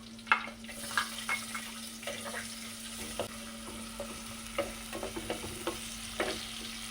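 Onions are stirred and sautéed in a pan for a home-style mackerel curry, a soft steady sizzle broken by repeated scraping and tapping of a spoon against the pan, close up with no talk.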